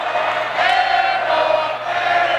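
The St. Vincent student section at a men's basketball semifinal swells into a loud, sustained crowd roar of jeers and voices after an opposing player's airball, filling the gym for a couple of seconds.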